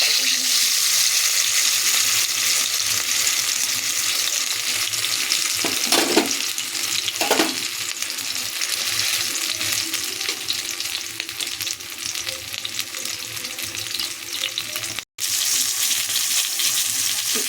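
Pomfret fish turned over and frying on its second side in oil, a continuous close sizzle with a couple of brief spatters and a momentary dropout near the end, no talking.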